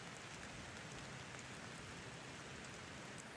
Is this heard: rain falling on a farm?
yes